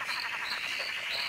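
A southern emerald spotted tree frog (Litoria tyleri) calls with a dense, pulsing high-pitched trill, steady and continuous throughout, moderately near, with no voices.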